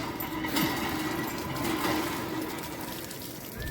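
Tap water runs steadily for washing hands and feet at a paid wash point at Banbha Dungar hill, a continuous close gushing hiss with no talk.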